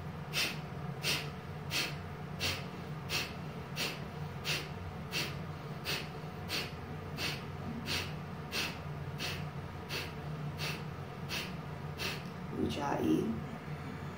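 Slow, steady ujjayi breaths in a pranayama class, a soft hissing throat breath rising and falling in regular cycles about every second, with a low hum running underneath and a brief louder rustle near the end.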